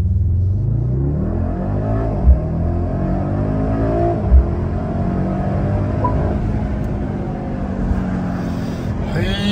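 Mercedes GLS 63 AMG under full throttle, heard from inside the cabin: a loud, continuous engine roar that climbs in pitch as the car pulls hard, with a couple of brief thumps, no talk.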